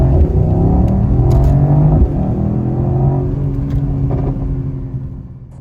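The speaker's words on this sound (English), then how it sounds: "Burbles on the let-off, which is something I love about these cars" A 2024 Mercedes-AMG GT63 V8 in race mode revs loud and close with rising and falling engine tones, then eases off into fading rumbles and burbles, and no talking is heard.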